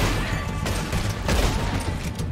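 Gunfire in Red Dead Redemption 2, a few loud, sharp shots and booms that ring out over the game's ambient sound, with no talk.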